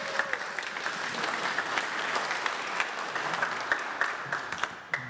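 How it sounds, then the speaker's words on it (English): A church congregation at a Sunday service claps together in a steady burst of applause that fills the room for several seconds, then tapers off. "Can we get a round of applause for the Earth"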